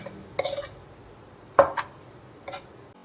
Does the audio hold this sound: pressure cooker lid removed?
yes